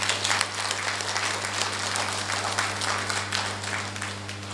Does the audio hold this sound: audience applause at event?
yes